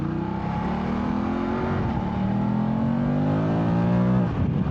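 A lorry passes on a fast road, heard from a moving motorbike as a steady loud engine drone with rising pitch, then a sudden drop near the end as it goes by, no talk.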